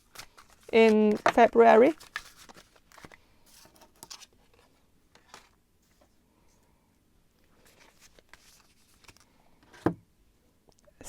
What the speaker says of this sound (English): So I'm going to shuffle one more card about your career